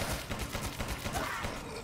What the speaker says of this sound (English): Slow down with your gunshots